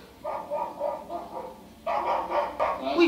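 A dog barks in a TV drama episode, a short run of several quick barks followed by a louder second burst, heard close with no talk over it.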